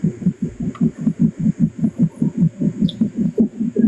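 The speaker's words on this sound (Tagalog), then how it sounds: "Ba't may naririnig akong heartbeat, bay?" A steady heartbeat coming through livestream audio, a regular low double thump repeating about four times a second, clear and prominent with no talk over it.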